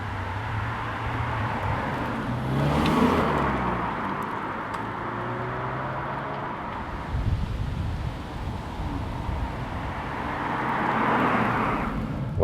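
An updated Mazda CX-3 heard from inside while driving: a steady low road and engine hum with wind noise runs throughout, swelling slightly at moments, with no talk.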